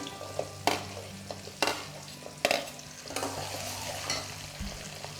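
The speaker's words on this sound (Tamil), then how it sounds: "வெங்காயம் பூண்டு இஞ்சி எல்லாம் வதங்கட்டும், நல்லா வதக்கிக்கிறோம்" Onions, garlic and ginger sauté in a pan with a soft, close sizzle, broken by a few sharp scrapes and knocks of a spoon stirring against the pan. No one speaks.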